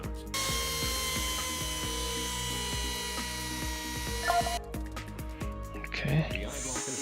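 A simulated bone saw makes the posterior resection cut during a virtual reality knee replacement, a steady close buzzing grind with rhythmic mechanical ticking that runs nearly the whole time and breaks off briefly near the end.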